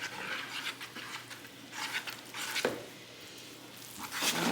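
Uneven scraping, sticky patter of a whisk working thick homemade bread dough in a bowl, rhythmic strokes close by with short pauses and a soft knock.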